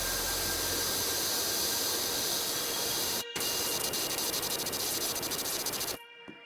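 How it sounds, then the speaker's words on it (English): A pressure washer hisses in PowerWash Simulator 2, a loud, steady broadband spray that cuts out briefly, resumes, then stops near the end, with no talk. "So we're just gonna nice and quickly spray up here."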